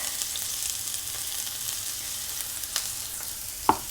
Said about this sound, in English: We're gonna add those scallions, and we gotta do this quickly because this is only gonna cook for 30 seconds.